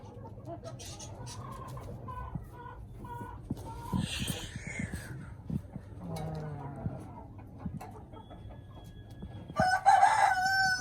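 Ayam Cemani chickens in a rooftop poultry setup crow and cluck nearby, with scattered calls, a rooster crow near the end and background murmur.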